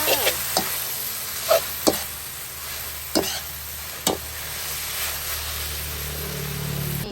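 Vegetable fern is stir-fried in a hot pan, a steady sizzle broken by several sharp scrapes and knocks of the spatula against the pan.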